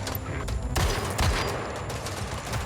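Gunfire crackles during a police shootout in the open-world video game Gangstar Mirage City, with rapid bursts of automatic shots and heavier blasts layered over loud game noise.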